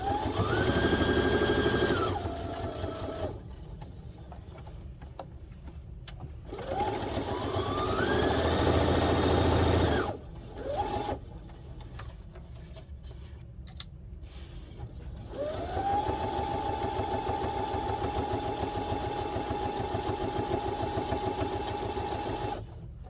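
A sewing machine runs in several bursts as it stitches a fabric pouch, steady whirring runs separated by short pauses, close and loud, with no talk.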